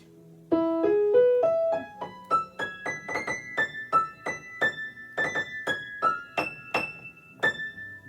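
High, bright piano notes played by the right hand one after another in a quick stepwise run, then evenly repeated in the upper register, each note sharp and ringing.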